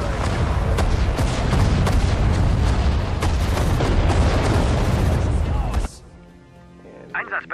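Heavy tank cannon fire and explosions from Sudden Strike 4 rumble continuously and loudly for about six seconds, then cut to quieter game sounds as a voice speaks briefly near the end.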